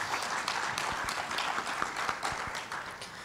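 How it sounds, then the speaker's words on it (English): An audience at an international business conference session applauds its two speakers, producing a dense, continuous patter of many hands clapping at a moderate distance, with no talk over it. "I would like to ask for both speakers another round of applause,"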